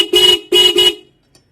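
Up close, a Suzuki Access 125 scooter's Roots Vibromini horn sounds three short, loud, car-like toots. A single beep is followed by a quick double, then silence.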